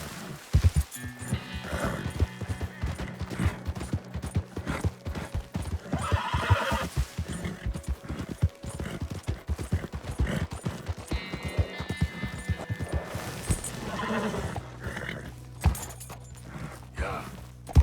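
Horse in Red Dead Redemption 2 clip-clopping steadily with rapid hoofbeats, punctuated by loud whinnies and neighs, with a man urging it on in the background.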